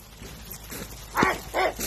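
A dog gives a couple of short, sharp barks in quick succession, moderately close, against a quiet outdoor background.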